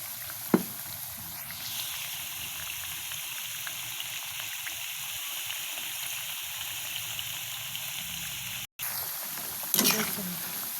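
Banana chips frying in hot oil with a steady, continuous sizzle throughout, a brief spoon or stirring knock near the start and another clatter near the end.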